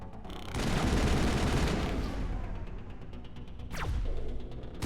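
Gunfire from a sniper rifle in the Mass Effect video game, with loud, dense shots, whooshes and booming blasts blending into a continuous roar across the clip.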